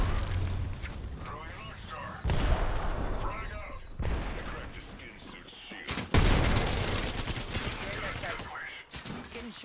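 Bursts of gunfire in a video game come in several loud volleys with sharp onsets and rolling rumble between them, while a voice talks throughout.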